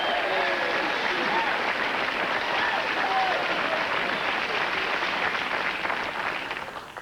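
A television talk-show studio audience bursts into sustained, dense applause and cheering that holds steady for several seconds before tapering slightly at the end.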